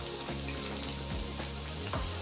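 Chopped onion and green chillies sautéing in a pan, a soft sizzle under repeated scraping strokes of a spatula stirring the mix.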